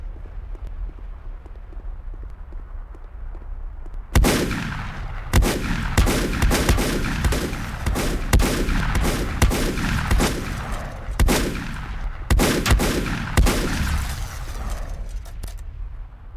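Revolver shots in the video game Volcanoids crack out loud and close, about eight sharp reports spaced irregularly after a quiet opening, each trailing into a rumbling echo.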